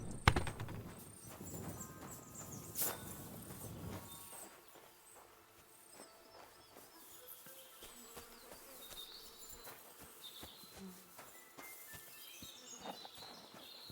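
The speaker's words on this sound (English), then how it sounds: "A beautiful horse. Black as charcoal." A horse in the medieval video game Kingdom Come: Deliverance clip-clops with soft hoofbeats, joined by faint buzzing insects and distant birds in a quiet outdoor ambience.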